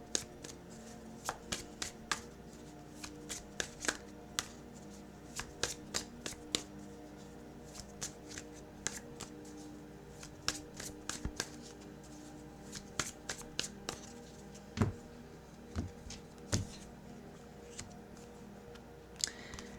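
A deck of advice and guidance cards is shuffled close by in a quiet room during a tarot reading, giving repeated crisp riffles and soft slaps in irregular bursts, with no talking.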